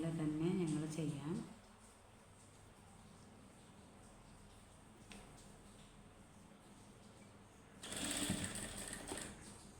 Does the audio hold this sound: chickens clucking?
no